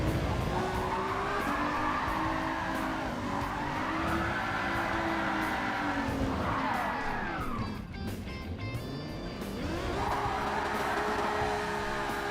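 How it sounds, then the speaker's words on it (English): Gran Turismo 7 car doing a burnout, engine revving and rising in pitch while tires squeal and skid loudly and continuously, with a brief dip before the engine climbs again. "That was a good little burnout, I guess."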